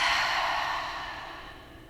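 A single deep breath is let out through the mouth in a quiet room during a yoga practice, a close, breathy exhale that slowly fades.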